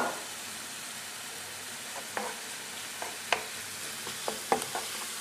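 Cod fillet frying in a pan over a very low flame, a soft steady sizzle with a few faint pops and scrapes close by.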